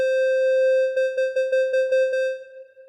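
Hollow, reedy square-wave note from the 4Pockets Copperhead digital synth app on iOS, held steadily and then retriggered in a run of about seven rapid pulses before fading, with no voices.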